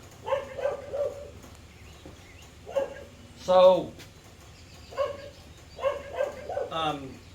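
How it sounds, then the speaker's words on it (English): A dog barks in several short bursts outdoors near a C4 Corvette, the barks spaced irregularly and fairly close, with someone speaking briefly between them. "There's a dog that likes to bark,"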